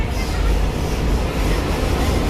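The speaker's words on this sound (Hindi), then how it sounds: "लगे हाथ मेट्रो भी आ चुकी है" A loud, steady rumble of a Delhi Metro train arriving along rails, close by, with no voices.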